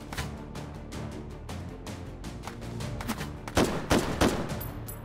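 Gunshots in the VR video game Hot Dogs, Horseshoes & Hand Grenades, a string of sharp, fairly distant cracks spaced irregularly, growing louder and heavier toward the end.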